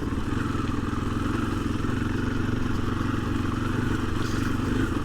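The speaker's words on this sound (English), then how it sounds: "if I just slow down, you can see I'm going 10 miles per hour, third gear, and just barely touching the throttle above idle." A 2024 KTM 500 EXC-F dirt bike engine in third gear at about 10 mph, barely above idle, gives a steady low, even thrum with a soft mechanical clatter, close and constant throughout.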